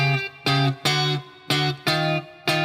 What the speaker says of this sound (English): What if we picked some notes on the low strings that are ascending while simultaneously playing notes on the higher strings that are descending?